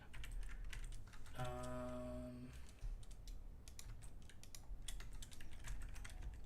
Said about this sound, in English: Sorry if my keyboard's loud.